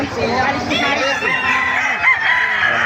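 A rooster crows loudly nearby while hens cluck around it, with a person talking in the background, at a market in Bocaue.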